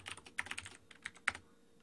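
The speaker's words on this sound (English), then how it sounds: "I could have just copy pasted this, but I felt like typing it" Someone types on a computer keyboard at close range, producing quick irregular key clicks with a sharper tap near the end.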